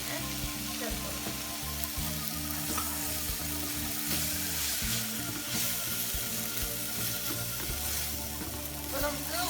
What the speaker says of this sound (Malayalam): ഇനി നമുക്ക് ഇതിലേക്ക് ഒരു 2 ടേബിൾ സ്പൂൺ സോയാ സോസ് ഒഴിച്ച് കൊടുക്കാം.